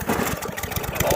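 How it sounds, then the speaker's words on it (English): A lawn mower engine in a torture test revs loudly and close with a pulsing, throbbing drone, while people talk over it. "Okay, rev her up! Right, rev it up."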